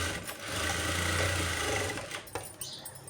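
Domestic sewing machine running a steady stitch along the side seam of a blouse, a close, continuous motor hum lasting about two seconds before trailing off into brief rustling.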